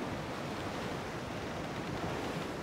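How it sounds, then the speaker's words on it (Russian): Wind blowing at sea in the naval game World of Sea Battle, a steady, even rush of broadband noise like surf and gusting air that holds level for the whole stretch with no talk over it. "Терпеть не могу этот ветер, который в лицо тебе вечно дует."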